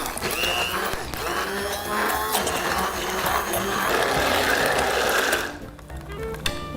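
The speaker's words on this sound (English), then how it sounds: "I love my immersion blender." An immersion blender whirs continuously while mixing aioli sauce in a kitchen, a loud close buzzing blend for about five seconds before it cuts off.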